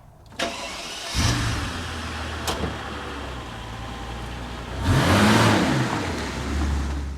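A Mercedes CL65 engine starts with a sharp click, settles into a low idle, then revs up and pulls away with a rising roar.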